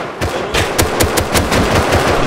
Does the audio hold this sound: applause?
no